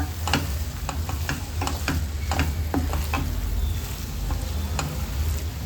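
Stuffing mixed with fresh coriander stirred in a pan, a steady low sizzle underneath with repeated scraping and clinking strokes of a spoon through the mixture, close and continuous with no talking.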